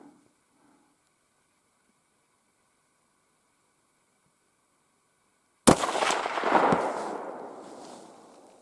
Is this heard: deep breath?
no